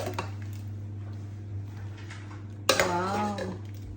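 Cooked chicken liver igado is spooned from a pan into a container, with soft scrapes and then a sharp metallic clink of spoon on cookware, followed by a voice speaking close by.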